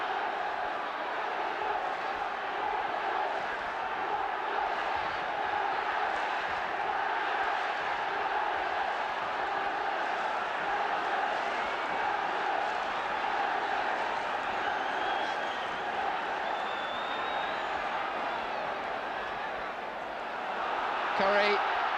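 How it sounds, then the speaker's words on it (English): Football crowd at Bramall Lane, Sheffield, during a 1975 Sheffield United versus West Ham United match, a broad steady roar of distant shouting voices filling the ground, swelling slightly near the end. "that's given the Bramhall Lane crowd something to shout about"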